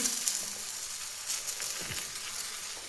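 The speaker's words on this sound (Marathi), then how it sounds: "मीडियम गॅसवरती ही थालीपीठ खमंग अशी भाजून घ्यायची" Bottle gourd thalipeeth flatbread roasting on a pan over medium flame, a soft continuous sizzle with faint crackles, close and fairly quiet, no voices.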